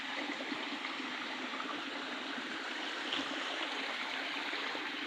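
Floodwater from heavy overnight rain pours down a previously dry stream, a constant close rushing hiss with light gurgles, steady in level from start to finish and unaccompanied by speech.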